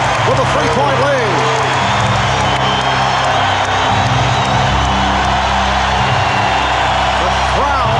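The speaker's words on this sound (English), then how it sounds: "The crowd very much back into it." Basketball arena crowd at the 1996 NBA Finals Game 5, Bulls vs. Sonics, cheering loudly and steadily throughout, with whoops rising over a dense roar while commentators talk over it.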